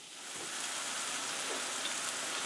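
Sliced cremini mushrooms and onions cook down in a hot pan, giving a steady, close, dense sizzle and crackle that keeps going without any talk.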